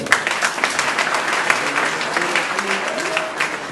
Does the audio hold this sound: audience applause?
yes